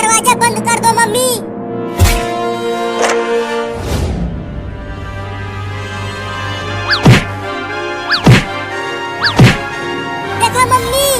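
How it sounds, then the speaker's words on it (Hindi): A cartoon cat bangs against a house door, several sharp loud thumps spaced a few seconds apart over tonal, voice-like sounds and talk. "वो कमीनी बिलार दरवाजे को कैसे मार रही है"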